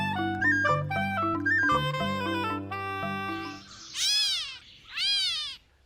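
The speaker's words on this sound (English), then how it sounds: "This bird is called a gray catbird because its song is very mechanical and melodical, but its call sounds almost like a cat meowing in the bushes." A gray catbird in the woods at Reinstein Woods: a melodic, mechanical run of varied song notes, then two loud, drawn-out nasal mew calls like a cat's meow, close and clear.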